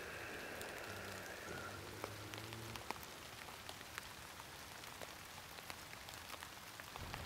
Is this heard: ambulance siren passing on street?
no